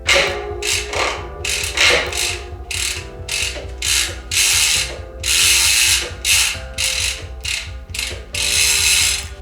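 A DT Swiss 240 EXP bicycle hub ratchet, with a failed 36-tooth ratchet being swapped for 54 teeth, clicks loudly and up close in repeated bursts of rapid freewheel ticking separated by short pauses.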